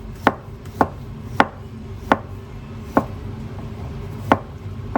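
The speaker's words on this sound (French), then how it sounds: "là je vais couper mon ail en fines lamelles" A knife slices garlic into thin slices on a cutting board. Seven crisp, evenly spaced knocks come close and clear, with a faint kitchen hum underneath.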